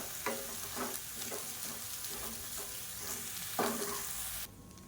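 Coconut rice is stirred with chopped coriander in a pan under a faint continuous sizzle, with a series of rhythmic soft scrapes about every half second, ending abruptly.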